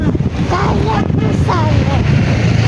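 Cold wind gusts across the microphone outdoors in Baguio, a steady loud rumbling buffet with people talking over it.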